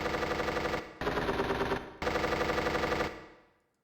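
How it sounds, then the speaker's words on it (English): A gunshot effect from a free sound library plays as three rapid bursts of automatic gunfire, each about a second long, loud and dense, separated by brief gaps before a fading tail. "And let's see gunshot."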